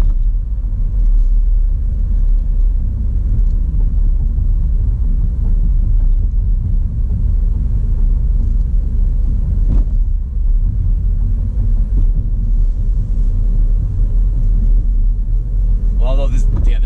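Car driving westbound on US 24 through the Toledo area, steady low road and engine rumble throughout with a person talking over it.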